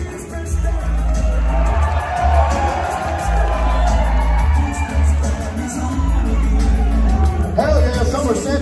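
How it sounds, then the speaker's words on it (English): Concert crowd at a show at The Masquerade in Atlanta cheering and shouting, a loud roar of whoops and voices over a deep rumbling low-end drone, sustained throughout with brief dips. "Another round of applause, please."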